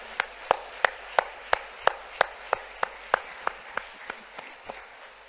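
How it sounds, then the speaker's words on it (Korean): A congregation in a Korean church claps in unison, about fifteen sharp, evenly spaced claps in a steady rhythm that gradually soften toward the end. "우리 감사와 영광의 박수 함께 올려드릴까요"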